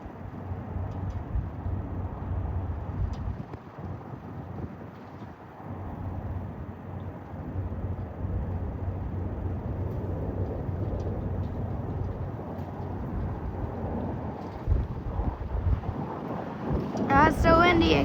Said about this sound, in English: It's so windy, I can barely hold it.